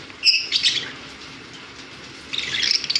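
Lutino Fischer's lovebirds chirp at a bird sale, with short bursts of high, shrill chirps near the start and again at the end, a quieter murmur between them.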